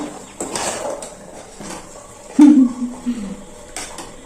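Scraping and clinking of a spoon stirring pongal in a metal cooking pot, with a few knocks against the rim under quiet background noise.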